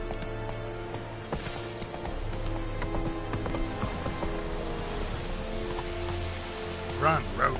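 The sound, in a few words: horse Roach galloping in video game The Witcher 3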